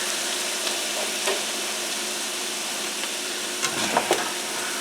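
A frying pan being deglazed with liquid after pork chops for an Italian dish, a steady close hiss of sizzling with a few light spatula scrapes near the end.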